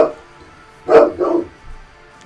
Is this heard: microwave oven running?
no